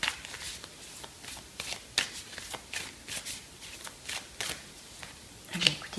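Oracle cards are shuffled and drawn by hand in a quiet room, a run of soft, rapid riffling flicks and papery slaps in irregular bursts, close and gentle, with no talking.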